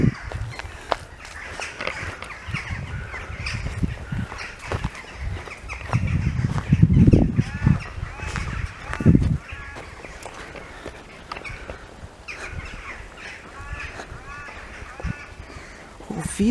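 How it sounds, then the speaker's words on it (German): Birds in an enclosure near a playground call repeatedly with harsh crow-like caws and grunting squawks, some close and loud, scattered over ongoing outdoor background noise. "Hier sind Vögel drinne."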